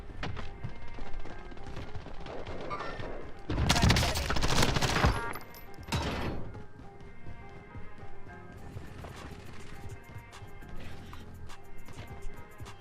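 Rapid gunfire bursts in Call of Duty Warzone, loud dense volleys mid-clip amid scattered shots, footsteps and game noise, with no talk.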